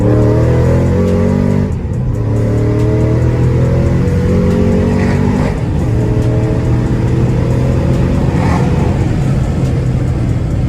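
A lightly modified 2014 Shelby GT500 V8 roars loudly and continuously through a second-gear dyno pull, its engine note climbing steadily in pitch, dropping briefly at a shift near two seconds, then rising again without a break.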